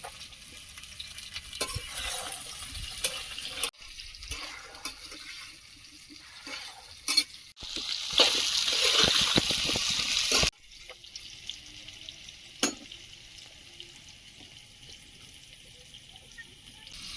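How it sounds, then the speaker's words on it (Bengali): Pumpkin and half-fried potatoes cook in a pan, with quiet sizzling, scattered spatula knocks, and a loud burst of hissing spatter for a couple of seconds midway before settling back to gentle frying. "আলুটা হাফ ভাজা হয়েছে এবার কুমড়োটা দিয়ে দেবো"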